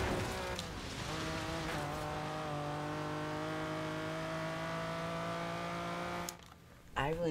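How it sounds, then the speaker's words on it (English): A loud, rich classic Lamborghini engine roar in Forza Horizon 3 revs up and settles into a sustained high-pitched whine with strong harmonics, then drops away abruptly near the end. "I really need to put up my volume to hear this car."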